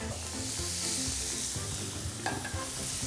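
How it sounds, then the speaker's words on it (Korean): Sliced pork for jeyuk-bokkeum stir-fried in a thin frying pan with water instead of oil, a steady close sizzle with scraping stirring strokes and no voices. "그냥 이렇게 볶아주시면 바로 제육볶음 되는 거예요"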